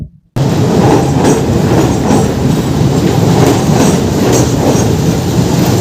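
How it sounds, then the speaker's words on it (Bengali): A local train rolls through Bankranayabaz station in West Bengal toward Howrah Junction, a loud, steady rumble with rhythmic wheel clatter and faint squeals that starts abruptly and keeps going unbroken. "এই লোকালটা চলে যাচ্ছে হাওড়া জংশনের দিকে"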